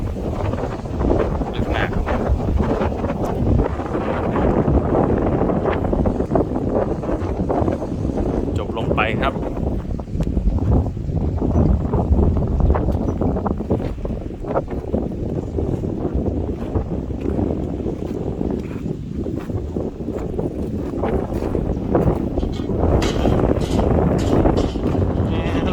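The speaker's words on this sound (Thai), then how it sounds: "ไม่รู้ว่าวิดีโอนี้จะได้ยินเสียงลมแรงไหม คงแรงน่าดูเลย" Strong wind sweeps across an open field and buffets the microphone with a constant loud rushing roar that lasts the whole time, while someone talks over it now and then.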